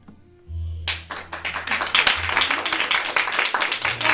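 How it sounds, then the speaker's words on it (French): After a brief quiet moment, a theatre audience at an improvised comedy show bursts into applause to vote, building quickly into loud, dense, sustained clapping from many hands that carries on to the end. "On va le faire à l'applaudimètre."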